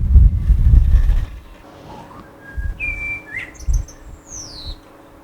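Birds call and whistle in a garden, with a few thin, sliding chirps and short whistled notes standing out after a louder low rumble at the start, moderately near over quiet background noise.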